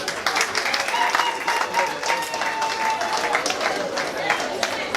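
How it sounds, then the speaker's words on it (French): Loud, sustained applause from a wedding crowd fills the whole stretch, dense and steady with no pauses. "on accompagne ce soir en applaudissant"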